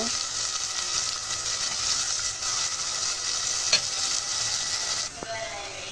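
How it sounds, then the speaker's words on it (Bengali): Chopped onion and garlic sizzle steadily in hot oil in a pan while being cooked for a chicken gizzard and liver curry with potatoes, a continuous close frying hiss with a brief stirring clink near the end. "পেঁয়াজ, রসুন কুচিটা দিয়ে দিব। বিসমিল্লাহ। ভালোভাবে ভেজে নেব।"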